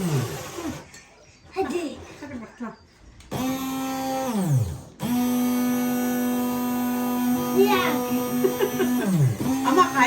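An electric blender purees garlic and ginger, its motor whining loudly in steady bursts that rise and stop, with women chatting between and over the runs.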